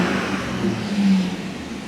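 A 2014 Audi A6 Premium Plus with a 3.0-liter supercharged engine revs steadily from inside the car, a smooth low drone that swells briefly around the middle before settling, with no talking.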